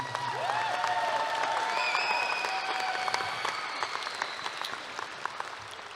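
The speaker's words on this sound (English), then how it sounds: "Let's give these graduates a big round of applause" Graduation ceremony crowd applauding the 2023 Memorial Pathway graduates, a dense, steady wash of clapping with some cheering, sustained for the full stretch.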